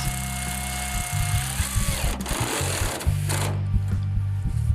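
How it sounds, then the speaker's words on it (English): An air ratchet drives a T45 bolt on a Ford F150 tailgate, with a loud, close, rapid mechanical rattle running in bursts and brief pauses between them. "I'm using a air ratchet for this."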